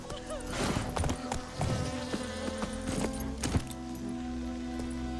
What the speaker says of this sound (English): I hear some bees or something